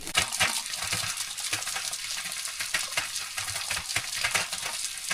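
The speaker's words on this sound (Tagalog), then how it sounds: "Igip tayo ng tubig dyan" Water being fetched outdoors for work up a slope, a steady splashing, gushing wash of water with small metallic clinks of a container, close and continuous with no talk.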